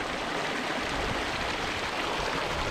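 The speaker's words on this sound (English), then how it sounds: "The water just trickles round here and then drops in over this cool down waterfall" Water trickles and splashes steadily over a small waterfall at Devil's Elbow, Glenshee, Scotland, a continuous close broadband rush with no other sounds.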